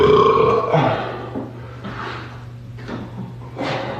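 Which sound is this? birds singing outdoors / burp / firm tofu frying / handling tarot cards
burp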